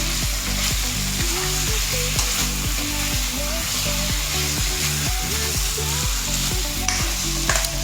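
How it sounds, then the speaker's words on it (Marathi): Food in a pan over a high flame, fried steadily and turned continuously, giving a loud, dense, unbroken sizzle with repeated scraping strokes of a spoon against the pan. "असं कंटिन्युअसली उलटं पालटं करत राहायचं, नाहीतर करपून जातं."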